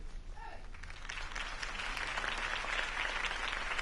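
Crowd applause in the video game Batman: The Telltale Series swells and holds steady, a dense wash of clapping that grows louder after a brief quieter start.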